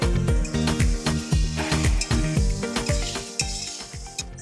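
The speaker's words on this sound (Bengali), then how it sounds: "কাজু, চারমগজ আর লঙ্কার যে বাটাটা করেছিলাম সেটা আমি দিয়ে দিচ্ছি" Cashew, melon seed and chili paste hits hot oil in a pan of potatoes for a jackfruit kofta curry, sizzling loudly and close, with rapid rhythmic scraping strokes of a spatula stirring against the pan.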